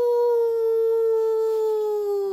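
A person does a sustained, wavering howl in imitation of a dog, Halloween-themed, steady and loud for a couple of seconds with no other sounds.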